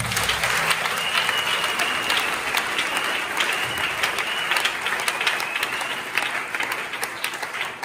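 A church congregation applauding during a Sunday service, dense sustained clapping from many people filling the room at steady loudness for several seconds.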